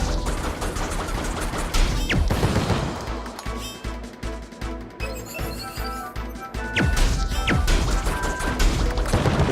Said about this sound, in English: All the dings and all the ball charging sounds